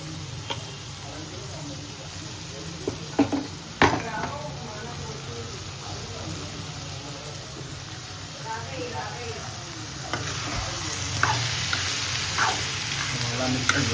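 Peas, carrot and capsicum stir-fried in a pan for rava upma: a steady low sizzle with occasional scraping stirs and clinks, close by, with talk over parts of it.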